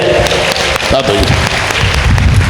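A congregation claps hands in thanks at a Malayalam Christian prayer gathering, loud continuous applause with some voices rising over it.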